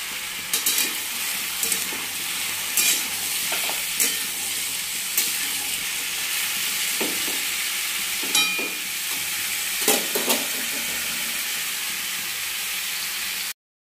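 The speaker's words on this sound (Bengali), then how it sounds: "তো এই হচ্ছে আলু ভাজছি আমি এখন" Potatoes sizzle steadily as they fry in a hot pan, close up, with occasional scraping stirs of a spatula breaking through the constant hiss.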